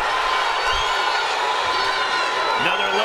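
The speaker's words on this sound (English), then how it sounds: "The crowd is eating it up." Boxing arena crowd cheering and whooping during a fight, a loud sustained roar of many voices with a rising shout near the end, a commentator talking over it.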